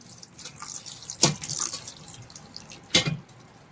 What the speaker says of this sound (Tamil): கொஞ்சம் கோல்டு வாட்டர் ஊற்றி கொஞ்சம் கிளறிடலாம்